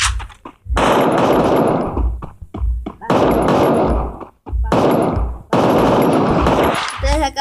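Automatic gunfire from a new weapon in the video game Free Fire rattles out in three or four loud, dense bursts separated by short gaps, with a brief metallic sound at the end.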